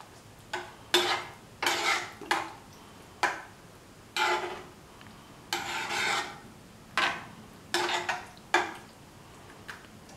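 Spoon scraping and stirring yam curd stew with curry leaves in a bowl, about a dozen distinct rasping strokes in an uneven rhythm, close and clear with no talking.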